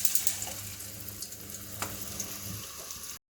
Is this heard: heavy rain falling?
no